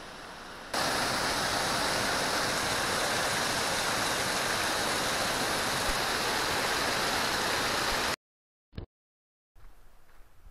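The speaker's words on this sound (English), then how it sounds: "I can hear the waterfall." A waterfall near Crater Lake National Park, Oregon, heard in a forest as a loud, steady broadband rush that holds for about eight seconds before cutting off sharply, then a brief faint quieter stretch.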